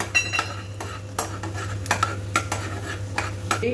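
A spoon stirs and scrapes a spoonful of urad dal roasting in a spoonful of oil in a pan, the base of a vangibath spice powder; the sharp metal clicks repeat irregularly over a faint, steady background hum.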